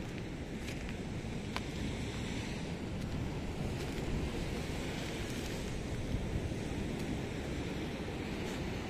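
Sea surf surging and breaking against the rocky shore at Morro de São Paulo, a steady broadband roar with wind buffeting the microphone, continuous and fairly loud with no talking.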